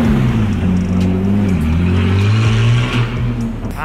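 A sports car passes at West Zone with a loud, close engine roar that rises and falls over a few seconds as it goes by, with no talking.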